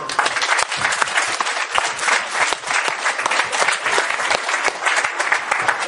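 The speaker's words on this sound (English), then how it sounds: "I just want to ask you all to give them a round of applause" Enthusiastic applause from a sizable audience at a scholarship event, loud and continuous with crisp individual claps throughout.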